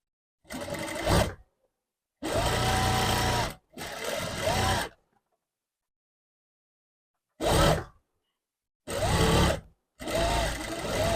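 A sewing machine stitches a long gown in six separate bursts of fast, even whirring, each lasting about a second. The bursts are loud and close, with silent pauses between them.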